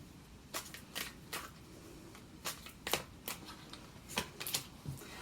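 Tarot cards being shuffled in bursts of crisp riffling flicks, about a dozen short papery rustles spread unevenly, fairly close and alone with no voices.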